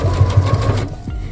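A sewing machine backstitches quilt binding, making a steady, close mechanical whir with a rapid needle rhythm that stops abruptly near the end.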